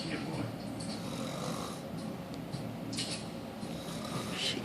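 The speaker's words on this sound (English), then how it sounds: "She can snore and snore and snore and snore." Extreme snoring from a woman, a steady raspy breathing drone repeating through the stretch, close and fairly loud, with faint higher wheezy hisses.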